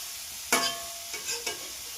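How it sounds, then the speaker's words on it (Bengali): Eggplant (brinjal) frying in a pan hisses with a steady sizzle, broken by a few sharp scrapes and taps of stirring, close and without talk. "নাকি বেগুন ভাজছো?"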